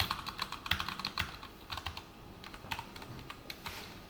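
Rapid, irregular clicking of computer keyboard keys as code is typed for a JavaScript and jQuery web page, close and crisp, with short pauses between bursts and no talking.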